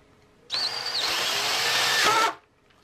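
A power drill bores a 3/8-inch hole through a metal front axle slider for an Alta Redshift SM supermoto, a steady high whine lasting about two seconds, then spinning down.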